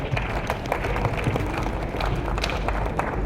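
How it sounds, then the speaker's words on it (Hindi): An audience at a business convention in Bhilwara, India, claps steadily in a dense, sustained round of applause, fairly loud, with faint crowd noise underneath. "एक बार जोरदार तालियां चाहेंगे सर के लिए।"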